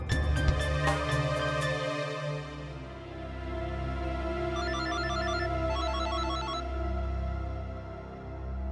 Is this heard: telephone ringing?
yes